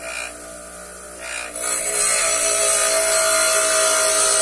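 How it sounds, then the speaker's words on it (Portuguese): Steel drill bit pressed against a bench grinder stone in a woodworking shop, giving a steady high grinding hiss that swells once the bit bites and then holds loud and continuous, with no talk. "Encostou aqui, chega no canto do esmeril da pedra,"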